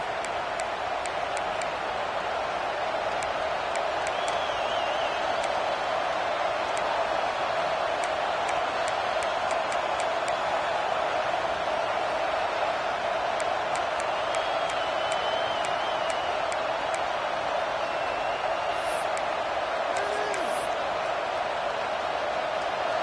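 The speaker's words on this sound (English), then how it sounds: "This crowd ready to make its presence known." A stadium crowd at a football game makes a constant, distant roar with scattered whoops and whistles rising above it, while a commentator talks over it.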